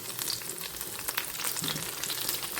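Cassava dry stir-fry with chili powder, ground coconut paste and curry leaves in a pan, sizzling in a steady hiss with faint scraping as it is stirred, alone and moderately soft.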